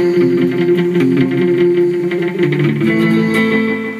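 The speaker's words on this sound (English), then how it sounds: "So a nice good slap back you can use for a lot of older kind of music." A guitar plays sustained notes drenched in a short slapback echo from a Boss RE-20 Space Echo pedal, each note doubled by a quick repeat, loud and close.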